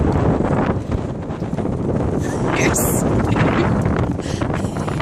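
Steady wind buffets the microphone on a lake shore at Bear Lake, a continuous loud broadband rush with gusty swells and no breaks across the whole stretch.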